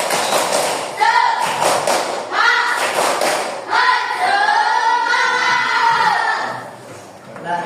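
A school class doing a patterned spirit clap in unison, the bursts of claps coming in rhythmic groups close by, with children's voices chanting and shouting along between them.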